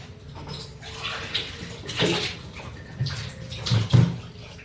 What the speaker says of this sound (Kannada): ನಾನೊಂಚೂರು ನೀರು ಪಾಡುವೆನು